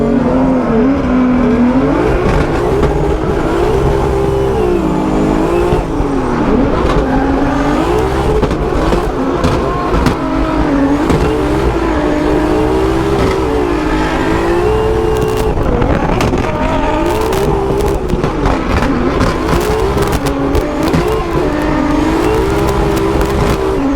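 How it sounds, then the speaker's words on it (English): A drift car accelerates hard during a drift battle, its engine roaring loud and continuous, revving up and down with tire noise throughout and no pause. "now we see Adam really pouring on the power as we smoke out our FPV drone there"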